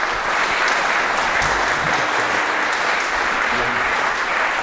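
A round of applause at the close of an annual lecture, dense and loud, steady throughout with no voices.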